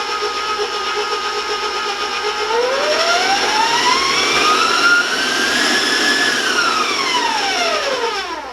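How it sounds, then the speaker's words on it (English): Whole wheat chocolate chip cookie dough churns in an electric mixer, a loud, steady mechanical whine with a motor pitch that rises and falls as it runs, continuous and close with no talking. "I'll warn you about the sound of the mixer"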